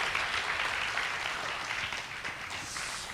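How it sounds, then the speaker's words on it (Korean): An audience at a Daegu book talk with author Yoo Seung-min claps in a steady, moderately distant round of applause that holds evenly, then slowly tapers slightly, with no voices over it. "큰 박수 부탁드리겠습니다."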